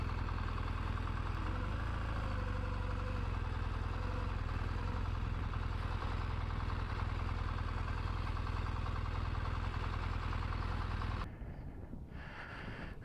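An off-road motorcycle engine runs steadily in first gear, a close, continuous low drone that cuts off near the end.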